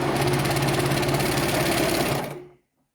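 Sewing machine stitching a hem around children's leggings, a loud, fast, even mechanical whirr running steadily before stopping abruptly near the end.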